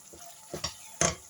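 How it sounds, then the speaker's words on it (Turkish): A spoon stirs minced meat and orzo pilaf seasoned with chili flakes and black pepper in a pan, giving a few short scraping, sizzling strokes close up, the last one loudest, over a quiet background. "Hepsini tekrar beraber karıştırıyorum."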